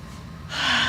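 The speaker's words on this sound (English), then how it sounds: "Take one deep breath." A deep breath is drawn during a yoga session, a short inhale that swells into a loud, close exhalation in the second half.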